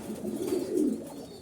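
Koka pigeons of the Bashi Raj breed coo close by in a loft, a soft, low, wavering rolling coo sustained for over a second.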